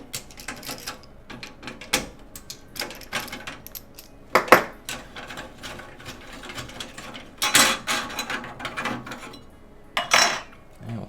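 Thumb screws being removed from a gaming PC case: a run of small metallic clicks, scrapes and taps at close range, irregular and crisp with a few sharper knocks, no talk.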